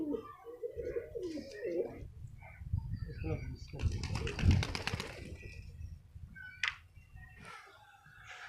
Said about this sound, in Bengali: কবুতরটা পাশের ছাদে যে বসে আছে কবুতরটা দেখা যাক কবুতরটা বাড়ি আসে নাকি